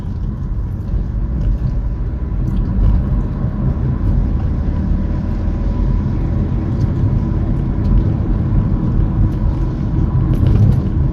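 A Mark 5 Ford Escort LX turbodiesel car drives along, its engine and road noise forming a loud, steady low rumble from inside the cabin.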